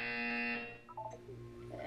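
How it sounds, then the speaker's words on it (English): A loud, steady electronic buzzer tone from the video game Portal 2 holds for about half a second, then fades into softer synthetic tones and music. "You will hear a buzzer."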